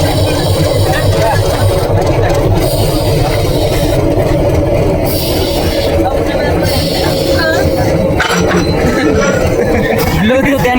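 A train locomotive idles with a steady, loud low rumble while engines are swapped at a station, with people chattering throughout and a few brief clanks.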